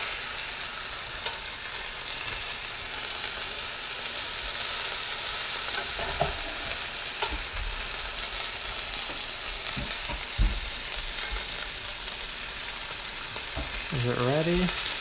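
Beef short ribs brown in a hot pan with a steady close sizzle, broken by a few tong clatters and turning sounds; a brief voice-like tone surfaces near the end.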